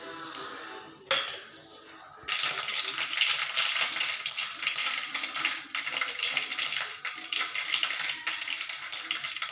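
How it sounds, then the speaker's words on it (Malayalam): Mustard seeds crackle and spit in hot oil in a pan with dense, continuous popping after a couple of clattering metallic knocks at the start. "കടുകെല്ലാം പൊട്ടി"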